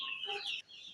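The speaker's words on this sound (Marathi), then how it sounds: "यामध्ये आपल्या 3 महिन्याच्या 2 महिन्याच्या कोंबड्या आहेत." Free-range native village chickens, young birds two to three months old, giving a quick, close, high-pitched cluck and squawk lasting under a second over quiet background.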